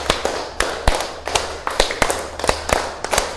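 A class of students clapping a rhythmic pattern together, a series of sharp, close claps in uneven groups, about a dozen strikes in quick succession, with no voices.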